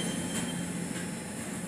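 A train pulls away from a platform on time, a steady rumbling roll with faint wheel squeal and rail noise throughout, close and continuous with no talk.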